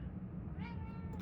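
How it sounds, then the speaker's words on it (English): A cat gives a single short, soft meow over a low background rumble, faint and brief near the middle. "Meow."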